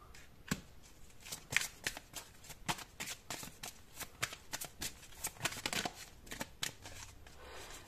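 Tarot cards being shuffled by hand, a dense run of crisp riffling slaps and flutters repeating irregularly for several seconds, close and fairly quiet with no talk over them.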